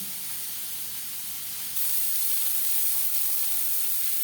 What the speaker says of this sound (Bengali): এক দু মিনিট পেঁয়াজ ভেজে নেওয়ার পর